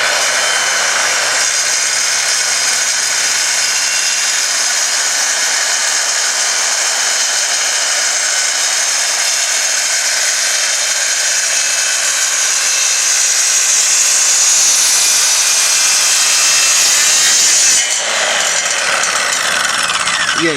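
An EZ Smart track saw running on its bridge system cuts steadily through a workpiece for about twenty seconds, a loud, continuous high whine with a brief change near the end.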